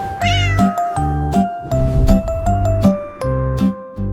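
A cartoonish cat meows several times in a rhythmic pattern, loud and close, woven into a bright musical backing in a French children's song.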